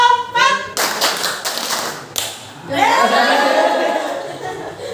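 Children in a classroom clap out a short counted rhythm pattern in a few sharp bursts, followed by a voice speaking and lively chatter.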